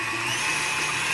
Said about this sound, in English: just beat the egg whites until they're frothy